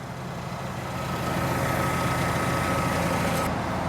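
A crane's diesel engine runs steadily while holding a large timber roof truss, a loud continuous rumble with a faint tonal whine that swells slightly after the first second, with no voices.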